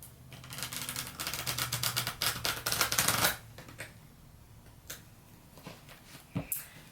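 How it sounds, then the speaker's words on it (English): Tarot cards riffled and shuffled by hand at close range, a rapid fluttering burst of about three seconds followed by softer taps and card handling. "I'm going to shuffle them one more time"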